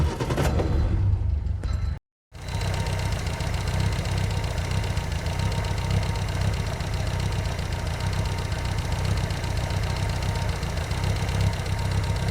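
A car engine idles roughly with a steady, close, continuous low rumble and knocking vibration, cutting out briefly near the start before resuming at an even level.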